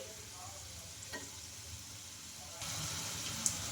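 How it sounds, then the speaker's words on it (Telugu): Samosas bubble in hot oil as they are turned from side to side, a soft steady fizz that grows a little louder partway through, with one brief clink near the end. "మనం వీటిని అటు ఇటు తిప్పుకుంటూ బాగా రెండు వైపులా బాగా ఫ్రై చేసుకోవాలండి"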